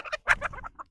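Hens clucking close by on a small farm, a run of short, choppy clucks in quick bursts that break off into brief pauses, with no other sound behind them.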